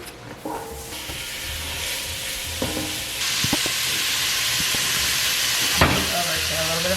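Ground pork browns in a hot pan for sausage gravy, giving a steady, loud sizzle with a few sharp scrapes and clicks of a spatula nearby.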